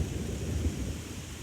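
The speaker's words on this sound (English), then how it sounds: "it's starting to rain, starting to drizzle a little harder now" Rain falls on a Tesla Model 3, heard as a low, steady rumbling patter with a dense hiss of drops, fairly faint and with no voices.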